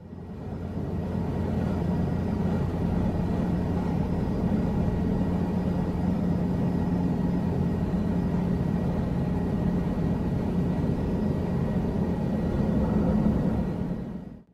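A helicopter in Microsoft Flight Simulator during a slow landing descent drones with a steady, loud engine and rotor hum that holds unchanged from start to finish, with no talking.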